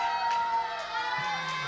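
Children shouting and cheering together during a church worship service, a sustained crowd roar that fills the room without pause.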